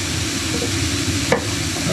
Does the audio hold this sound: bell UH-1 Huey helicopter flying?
no